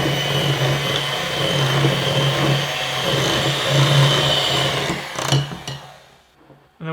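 An electric mixer whirs steadily at close range as it beats an egg and vanilla extract into peanut butter blossom cookie dough, with a steady motor hum that falters and cuts off near the end.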